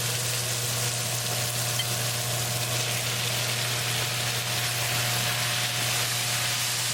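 Spinach (palak) sizzles in a tadka with tomato sauce for palak dal, a steady, dense frying hiss with a constant low hum beneath, continuous and close throughout.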